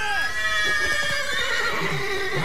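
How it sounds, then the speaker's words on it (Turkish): In The Witcher 3, a horse whinnies loudly with a long, wavering neigh that falls in pitch, up close, with clopping hooves and someone talking underneath. "Dur bak, atı korkuttu."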